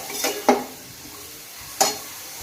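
Finely chopped tomatoes stirred in a hot pan for a potato curry, a low sizzle under two sharp clinks of a spoon against the pan, close and brief.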